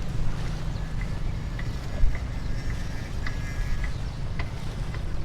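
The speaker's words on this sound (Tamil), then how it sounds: "பாருங்க, ஃபுல்லாக இப்போ லேட்டஸ்ட் ஸ்பீட் போட் வந்து ஓடிட்டுருக்கு." A speedboat runs on the water off Abu Dhabi, a steady low engine rumble with wind buffeting the microphone and faint high whines throughout, close and continuous with no talk.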